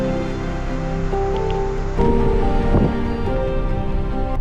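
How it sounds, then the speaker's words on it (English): Waterfall near a glacier beside a mountain road in British Columbia: a steady, full rush of falling water that holds evenly throughout and grows slightly louder partway through, with no voices. "and look at this beautiful waterfall."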